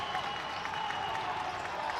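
A basketball crowd in Cookeville cheers and applauds steadily, a dense wash of clapping and voices at moderate distance with no pauses.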